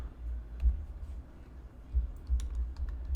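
Keys tapped on a computer keyboard in a quiet room, soft irregular clicks coming faster toward the end, close and fairly faint.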